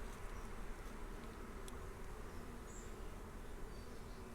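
A dense, steady buzz of many honeybees, including drones, around an open hive during a hive inspection, a constant droning hum with no voices.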